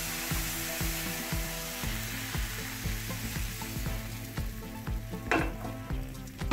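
A vanilla-lemon crêpe cooks in a small buttered frying pan, with a steady sizzle and a regular low ticking pulse, plus a brief sharper scrape near the end.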